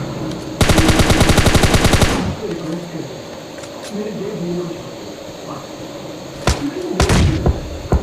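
Automatic gunfire in the mobile shooter game PUBG Mobile Lite: a loud, rapid burst of shots lasting over a second, followed by ambient game sounds and a few later sharp shots.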